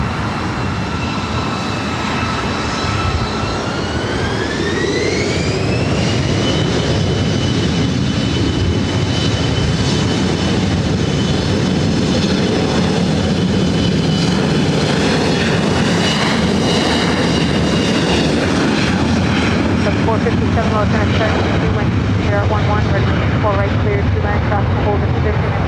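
A SkyWest Embraer E175 jet takes off from LAX, its engines spooling up with rising whine tones into a loud sustained roar that holds steady, while air traffic control radio talk runs beneath.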